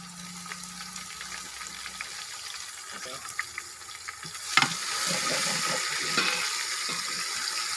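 Ginger garlic paste frying with onions in a pot, a soft low sizzle that swells louder partway through, with light stirring and faint watery sounds.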